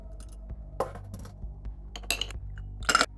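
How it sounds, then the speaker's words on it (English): Ice cubes clinking against a tiki glass as a couple are lifted out to make room for tonic water, giving a few bright, sharp clinks spaced across the moment over a quiet background. "I'm gonna take out a couple ice cubes to make room for the tonic water."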